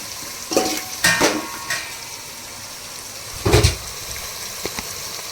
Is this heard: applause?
no